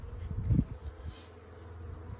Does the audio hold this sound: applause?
no